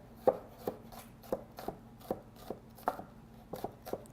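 Steady knife strikes mince crushed garlic on a cutting board, about ten crisp chops in a loose, uneven rhythm, close and clear with no talk.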